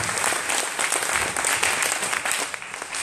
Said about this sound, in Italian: un applauso a Mauro e attraverso Mauro a tutti gli amici di Riolo